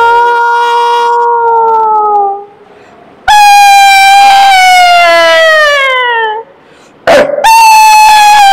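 A person's voice imitates a jackal's call: three loud, close, drawn-out howling wails, each sliding downward in pitch, separated by brief pauses, with no other talk.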